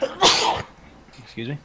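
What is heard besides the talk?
sneeze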